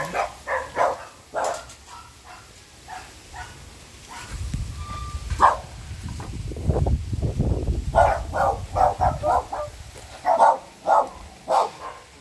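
A dog barks repeatedly in short bursts at moderate distance, with a rumbling low noise in the middle stretch.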